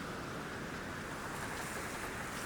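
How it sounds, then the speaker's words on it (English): Wind and giant waves churn a stormy sea in a steady, dense roar of surf and rushing air, loud and unbroken throughout, with no voices. "the weather was so bad it was decided that Chug should wait for the wind, rain, and the giant waves to calm down."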